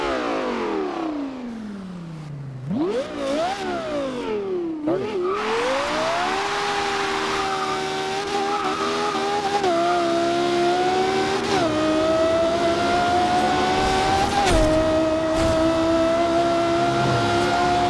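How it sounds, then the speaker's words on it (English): A Lexus V10 Japanese car engine revs up and drops back in sharp swings, then climbs into a loud, sustained high-pitched howl with further quick blips, close and alone without talk. "It'd be what Lexus actually came up with. A V10 Japanese car."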